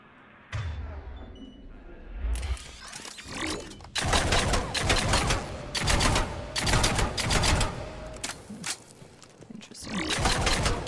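Three-round burst rifle in Mass Effect 3 firing in repeated loud, sharp bursts, each a rapid cluster of shots separated by brief pauses, close and dominant throughout, ringing out after a quieter opening.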